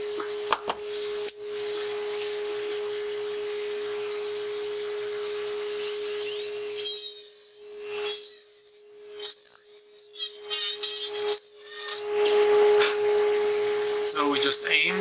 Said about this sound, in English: let's turn on the suction. And we'll make the holes.